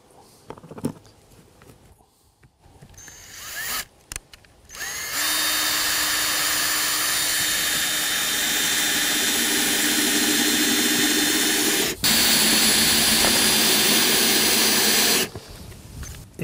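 Power screwdriver driving screws through Onduline roofing edge pieces: a loud, sustained high whine for about ten seconds, briefly interrupted, then resuming before stopping, after a few short knocks and blips.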